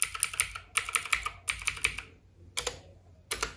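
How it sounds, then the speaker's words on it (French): Typing on a SteelSeries Apex 7 mechanical keyboard with blue switches: bursts of sharp, clicky keystrokes close up, coming in quick clusters separated by brief pauses, with no voices. "Un clavier SteelSeries, c'est un Apex 7 avec des touches mécaniques bleues."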